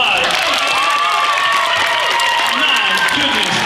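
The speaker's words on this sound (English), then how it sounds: "Let's give him a big round of applause." A school gym audience at a chemistry expo claps and cheers loudly and continuously, children's shouts and whoops rising over the steady wash of applause for a few seconds.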